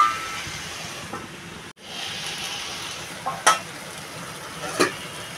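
Ash gourd ghonto being stirred in a pan, a steady soft sizzle with a few brief scraping clinks of the spoon and a short break partway through.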